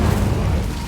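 A fiery Incendio spell blast from Hogwarts Legacy gives one short, loud, deep whoosh-boom that fills the moment and stays dense to its end, with no talking.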